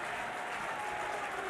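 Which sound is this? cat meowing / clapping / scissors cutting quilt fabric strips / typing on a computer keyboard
clapping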